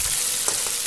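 A thickening prawn malai curry gets a brief stir in a pan, giving a short stretch of continuous sizzle with a couple of soft scraping strokes. There is no talk.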